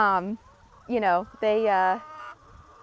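Chickens raised out on pasture give three drawn-out, close clucking calls separated by short pauses, each call loud and clear against a quiet background.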